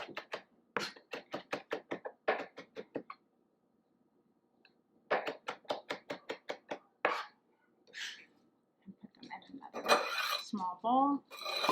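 Food chopped on a cutting board while making omelettes: quick, close, rhythmic knife chops in two bursts separated by a pause, then heavier knocks and a brief voice near the end.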